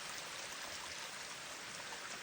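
Rainwater runs down a stream through a wooded, planted area, a steady close trickling rush with no break and no voices.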